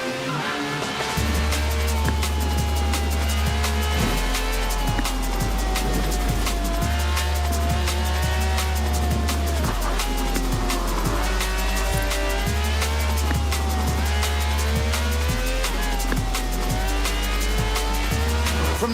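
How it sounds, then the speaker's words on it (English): A V12 car of over 750 horsepower in Forza Horizon 4 drones steadily with a low engine hum that shifts in stepped pitches, overlaid by dense, bright tire squeal and skidding noise throughout, loud and continuous. "This is a V12 with over 750 horsepower"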